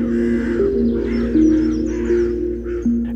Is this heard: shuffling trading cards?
no